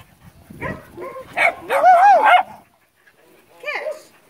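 A female shelter dog barks and yips close by with whiny, rising-falling cries in a cluster of bursts, then a pause and one more short yelp.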